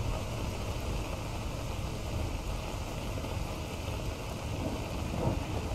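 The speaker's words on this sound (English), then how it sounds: "The new thunder and lightning is really aggressive." A thunderstorm in S.T.A.L.K.E.R. Anomaly makes a dense, continuous wash of rain and low rumbling, steady throughout with a slight swell near the end.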